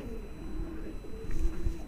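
Big Lalsire pigeons from a Tonk bloodline give low, throaty coos in a loft, a soft wavering murmur that rises slightly near the end among faint shuffling sounds.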